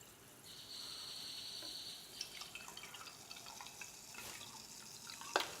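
Cherry Coca-Cola pouring into a glass with a steady fizzy hiss, then faint crackling and small splashes as the pour settles; no talking.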